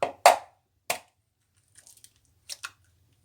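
Aloo kabab mixture of potato with egg, cornflour and rice flour being mixed by hand, with a few wet squishy slaps followed by softer scattered squelches and pauses, close and clear, with no talk.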